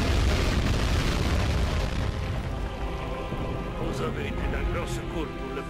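Loud explosions rumble in the Medal of Honor war game, a dense roaring blast that slowly tails off into crackling debris, with a voice speaking over the top.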